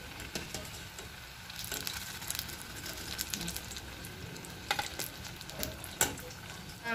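Homemade tuna nuggets made from canned Century Tuna frying in a pan, a steady soft sizzle with occasional pops and light stirring scrapes, no talking.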